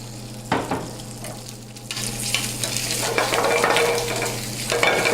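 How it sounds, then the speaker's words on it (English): Shrimp searing in a hot pan: a strong, steady close sizzle that swells and crackles, with scattered scraping and clinking from a utensil against the pan. "it's important you wait for the pan to get hot so that the shrimp will sear really nicely"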